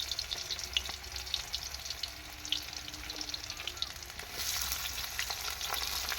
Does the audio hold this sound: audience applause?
no